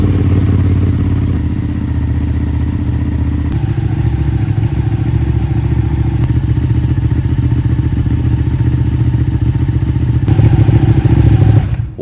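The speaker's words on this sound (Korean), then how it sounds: "시동 걸고 5분 정도 오일 온도도 올려주고 순환도 좀" A Ducati 959 Panigale superbike idles to warm its engine oil, a loud, steady close-up rumble with a rapid, even pulse and faint mechanical clatter throughout.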